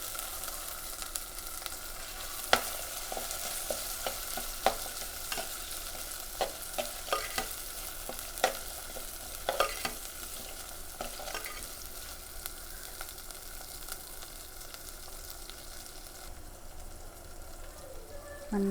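Shallots sizzle in hot ginger-garlic paste for a pearl spot fish curry: a steady close frying hiss runs throughout, broken by scattered sharp clinks and scrapes of a spoon stirring the pan.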